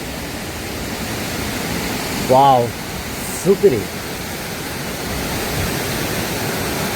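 Makeli waterfall in Kalutara, Sri Lanka, roars as a steady broadband wash of falling water throughout, with a couple of brief voices cutting in over it midway.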